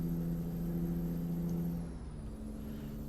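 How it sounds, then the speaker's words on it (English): A truck engine in American Truck Simulator idles with a steady low hum, then its revs drop and settle partway through. No voices are heard. "Just trying to waste fuel by revving the guts out of it."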